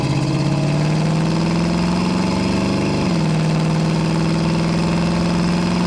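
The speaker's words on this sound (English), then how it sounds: "A little harder acceleration here for you." Engine of a 1967 Chevrolet C10 Stepside pickup pulling under harder acceleration, a loud steady drone rising in pitch, briefly dipping as if shifting, then holding a higher even hum, with no speech.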